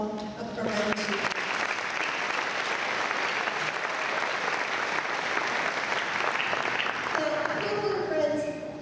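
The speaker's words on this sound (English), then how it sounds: "So can we give them all a round of applause?" A graduation convocation audience breaks into applause, a broad steady roar of clapping that starts after a speaking voice and fades back into speech near the end.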